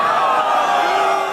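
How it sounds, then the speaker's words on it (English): A concert crowd at a show in Sweden roars in a sustained, loud wash of voices after the frontman falls off the stage and breaks his leg, with a steady mass of booing and shouting throughout. "Are people booing the fact that he broke his leg?"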